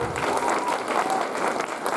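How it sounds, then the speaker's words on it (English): Audience applause after an energetic stage performance at a cultural event, a dense, steady clapping crowd sustained throughout at a close, even level with no pauses. "Can we have one more round of applause?"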